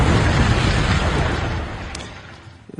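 A comedy radio bit plays a loud explosion sound effect, a broad rumbling blast that slowly fades over about three seconds.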